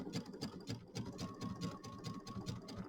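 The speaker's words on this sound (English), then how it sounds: "we're going to sew out of this corner." Sewing machine stitching a Kimberbell mini quilt, running in a steady fast rhythm of needle strokes with a constant motor whine, close and moderately loud, with no talking.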